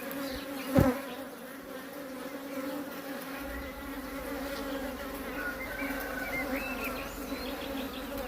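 A steady, dense buzz of honey bees in a hive fills the clip, continuous and close, with one brief louder thump near the start.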